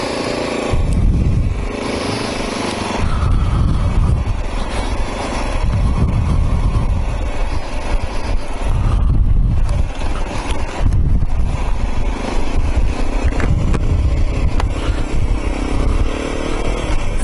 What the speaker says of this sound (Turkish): Evet, motorumuz çalıştı. Birinci vitese attık.